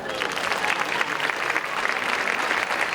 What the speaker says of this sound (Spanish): ahora sí que las vamos a recibir con un fortísimo aplauso a cada uno y a cada una